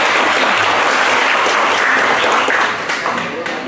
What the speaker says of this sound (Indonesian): Berikan aplaus kepada Pak Sekretari.